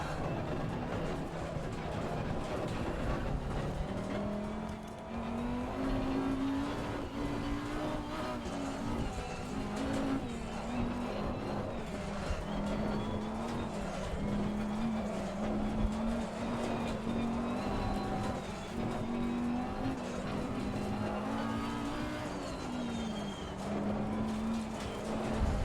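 Race car engine from the Assetto Corsa Competizione sim drones steadily throughout, its pitch rising and falling gently as the car is driven while warming the tyres, with faint tyre and road noise underneath.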